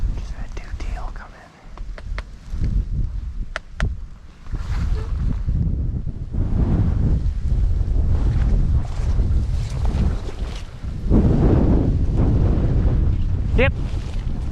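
Strong wind of around 60 mph roars steadily across the microphone during a solo kayak duck hunt on open water, with faint whispered talk beneath the gusts.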